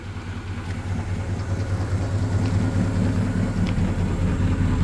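A 1966 Chevrolet Impala with its factory dual-to-single exhaust running at a steady idle, a low, even rumble heard close by that stays quiet and smooth throughout.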